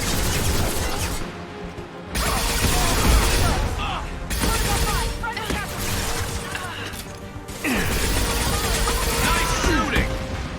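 Bursts of rapid gunfire from a Mass Effect 2 firefight crackle loudly in several dense stretches, broken by brief lulls, with crashing impacts and mechanical clatter mixed in.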